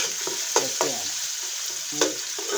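Crushed garlic, ginger and green chillies sizzle steadily in hot oil in a pan, with a few scraping stirs from a spoon, close and continuous, with no talking.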